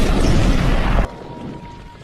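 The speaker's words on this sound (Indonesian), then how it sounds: "toko itu pun meledak" A shop explodes in a dramatized story: a loud, dense blast roars for about a second, then cuts off abruptly to a low, quieter rumble.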